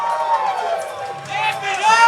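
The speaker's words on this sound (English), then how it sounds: "Now listen to the pop of the crowd" Crowd at an XFC Demolition amateur featherweight title fight night, a continuous roar of voices with rising whoops and cheers mixed with shouting, loud and close throughout.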